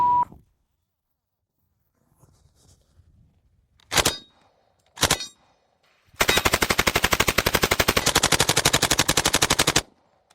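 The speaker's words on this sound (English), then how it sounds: "Full auto Thompson 38." A full-auto Thompson submachine gun firing .45 ACP: two quick separate shots, then a sustained rapid burst of evenly spaced rounds lasting about three and a half seconds, loud and close with no talking.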